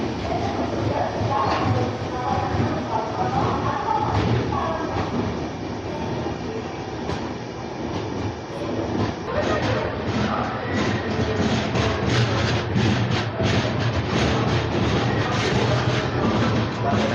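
The AP Express rolls through an Indian railway station in a loud, continuous rumble of wheels and carriages, the rhythmic clatter sharpening toward the end as the train keeps passing.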